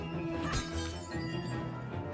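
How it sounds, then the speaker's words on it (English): Pottery smashing in the video game The Deadly Tower of Monsters, a sharp shattering crash early on, then a dense rattling mix of game sounds and music. "we start by smashing random pottery and picking up gold"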